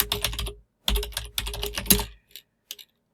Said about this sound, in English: I am terrible at typing and talking.